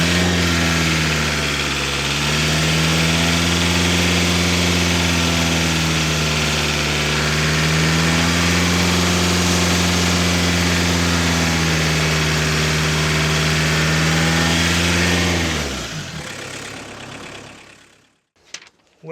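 A diesel engine in a MK2 Golf GTD idles steadily and close by, a low even drone with a slight wavering hum, then cuts off near the end, leaving silence and a couple of faint knocks.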